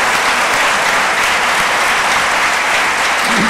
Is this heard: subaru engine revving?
no